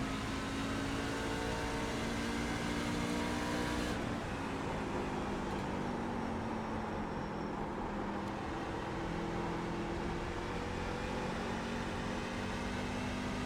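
A race truck engine in the iRacing game at New Hampshire holds a loud, continuous drone. Its tone shifts and climbs as the throttle is worked, with no talking.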